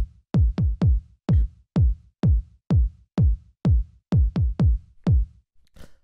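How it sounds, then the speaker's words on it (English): A hard-hitting 909-style kick drum from a minimal house beat at 127 BPM thumps in a sparse pattern of about fourteen punchy, decaying hits, some in quick pairs. It plays dry and alone with no voices. "sort of like hard-hitting, almost like a 909 style kick."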